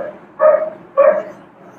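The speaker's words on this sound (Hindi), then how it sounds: "देखो कुत्ता डेली भौंकता है ना" A dog barks twice in short, sharp yaps about half a second apart, fairly close and clear against a quiet background.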